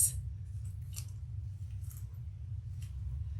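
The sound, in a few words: scissors cutting off excess fabric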